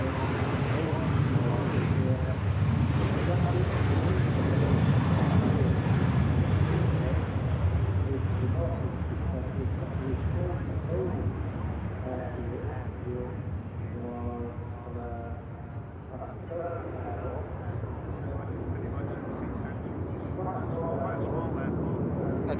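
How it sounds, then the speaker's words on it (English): Pegasus Airlines jet with a yellow tail, arrived from Istanbul at Manchester Airport, a steady engine roar and whine heard from outside, loudest early then easing to a lower rumble, with voices talking over it. "the aircraft outside with the yellow tail has just arrived from Istanbul"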